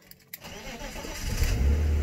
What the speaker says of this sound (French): on va démarrer l'auto